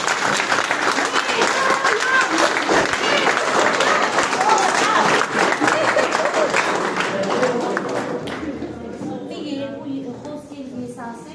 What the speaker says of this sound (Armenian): շնորհավորենք ու ծափահարենք